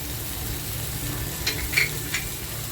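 Fried Bombay duck and chopped onion going into a hot pan, giving a soft continuous sizzle with a few brief utensil clinks near the end, no voices.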